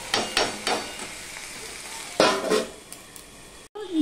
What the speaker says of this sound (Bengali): এবার টমেটোটা যতক্ষণ না নরম হচ্ছে ততক্ষণ আমি এটা ভাজতে থাকবো মিডিয়াম টু লোতে রেখে।